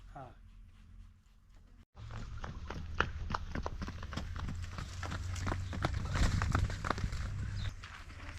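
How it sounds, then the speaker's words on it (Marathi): Steady hoofbeats of a bullock clopping along at an even walking pace at a bullock cart race, with a low engine-like hum and background chatter underneath. "पाव बैलाची पायदास आहे"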